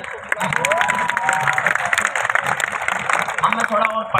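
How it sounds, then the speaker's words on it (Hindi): An audience at a Hindi poetry recital breaks into applause and crowd noise, a dense, loud burst of clapping mixed with voices and cheering. "जोरदार ताली बजाओ।"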